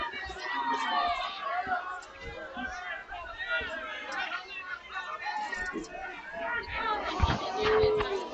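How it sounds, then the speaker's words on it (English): A high school football playoff crowd of Coal Grove fans in a stadium, a dense roar of shouting and chatter protesting the officials, heard under a commentator's speech, with bursts of louder yelling near the end. "That definitely got the Cold Grove crowd barking at the officials."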